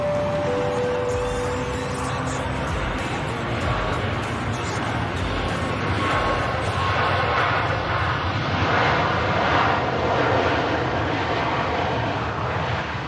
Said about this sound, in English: Paul Brooks being rudely interrupted by a Ryanair Max